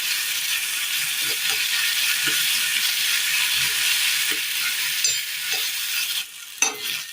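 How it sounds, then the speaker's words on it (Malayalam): Finely chopped tomatoes fry in sesame oil, giving a constant sizzling hiss, while a spatula stirs them with repeated soft scraping knocks and a few sharper clinks near the end. "ഇതിലേക്ക് കൊത്തി അരിഞ്ഞു വെച്ചിരിക്കുന്ന തക്കാളി ഇട്ട് കൊടുക്കാം."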